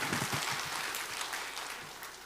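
Congregation applauding during a Sunday worship service, a brief burst of dense clapping that starts fairly loud and slowly fades.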